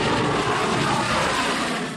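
MiG-21 Bison fighter jet flying, a loud, steady broadband engine roar that holds strong throughout and tapers slightly at the end.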